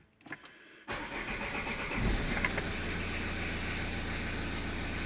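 A manual car with a clutch on the floor, fixed by hand, cranks briefly and catches, then settles into a steady, fairly loud idle that holds to the end.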